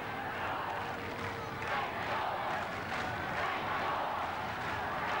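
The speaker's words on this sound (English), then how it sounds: "This crowd setting up the chant for the St. George side." A rugby league crowd at a 1991 St George Dragons versus Manly match raises a sustained, dense roar of chanting for the St George side, steady and far-spread throughout.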